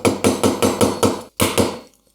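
Eight sharp hammer blows drive a chisel into wood in a steady rhythm, each strike close and loud with a short ringing decay, a brief pause before the last two hits, then silence.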